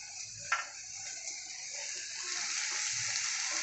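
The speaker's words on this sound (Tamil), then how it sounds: "எல்லாம் சொராவை பிழிஞ்சு தண்ணி எடுத்துருங்க." Water is squeezed out of raw shark meat for a scrambled shark dish, a faint close wet trickle with a brief squelch early on, steady and without talking.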